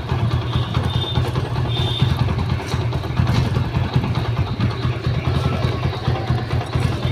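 A TVS Apache RTR160 motorcycle with a freshly washed chain and sprocket, its engine running at a steady idle, a loud, close, continuous low rumble with no talk over it.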